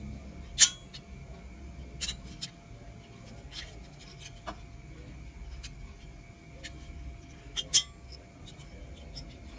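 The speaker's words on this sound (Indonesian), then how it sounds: "Kalau bunyi klak nanti itu tegangan sudah putus ya." Car air conditioning thermostat switch cutting off voltage, a few faint, sharp clicks over quiet background hiss, spaced several seconds apart.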